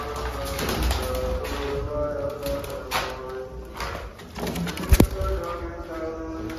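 Pigeons coo softly and steadily from close by in a loft, mixed with faint chatter, light tapping and a couple of sharp knocks.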